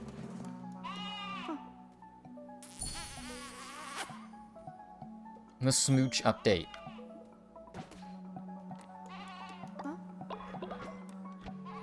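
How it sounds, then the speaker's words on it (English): Sheep bleats and buzzing insect sounds from the Cult of the Lamb video game, with short game effects and a loud burst partway through, while a person talks over parts of it. "what is the sheep sound? It's like, oh, that's me."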